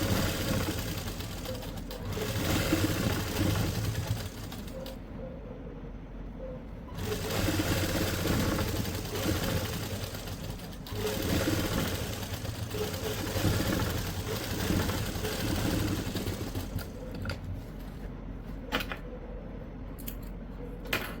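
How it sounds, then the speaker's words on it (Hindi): A sewing machine runs a top seam on a co-ord set garment, whirring steadily in several long bursts with short pauses between them, fairly close and alone. "अब जो आपको ये ऊपर से एक सिलाई लगानी है वो वाली लगा दें।"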